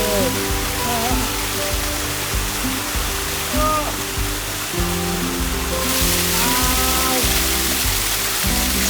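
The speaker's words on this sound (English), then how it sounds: "started to hear the sound of something wonderful and came round the corner to see this. Waterfall." Steady, roaring rush of falling water fills the scene, loud and close, with faint voices underneath.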